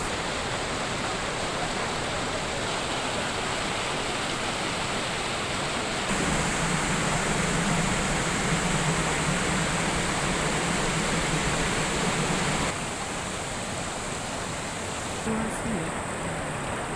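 Water rushing through a river floodgate separating two rivers, a loud steady broadband roar filling the whole clip, swelling stronger midway before easing back.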